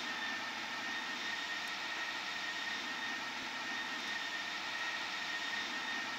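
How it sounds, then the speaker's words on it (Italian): Steady jet aircraft engine drone in the Microsoft Flight Simulator X video game, a constant broadband whine and roar with a faint high tone, unchanging and alone throughout. "sto aereo è fatto veramente bene, anche i rumori, tutto quanto, veramente un bellissimo aereo"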